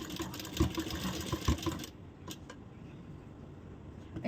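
A sewing machine stitches a blouse in short bursts of rapid needle chatter, with a few heavier thumps, then drops to a quieter hum with light clicks.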